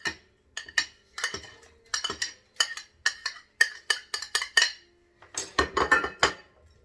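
Hard-boiled eggs and small bacon pieces going into a bowl produce a series of close clinks and clatters, like utensils tapping a dish, in irregular quick bursts.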